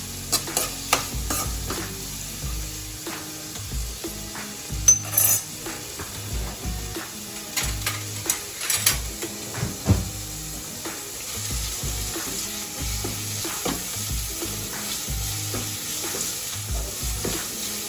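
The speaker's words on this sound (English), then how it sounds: "Then adding 1 cup of chopped onions. I'm just going to saute it." Chopped onions and garlic sautéing in a pan for rajma pasta, a steady soft sizzle under irregular scraping and stirring clicks of a utensil, close and moderately loud throughout.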